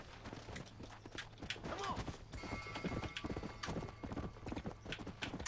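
Horse hooves clip-clop in a walking rhythm in the Red Dead Redemption video game, with a brief whinny early on, fairly close and steady throughout.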